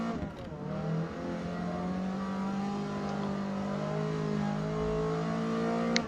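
A Ford Escort's engine in a D-class race at Mid-Ohio in Forza Motorsport revs continuously, its pitch rising and falling through gear changes as the car chases the pack; loud and steady, with no voices.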